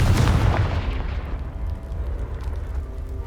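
Confringo, a fire spell from Hogwarts Legacy, blasts a pile of debris with one loud, close explosive boom that decays into a rumbling, crackling tail.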